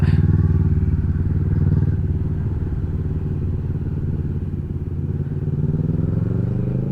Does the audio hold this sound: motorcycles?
yes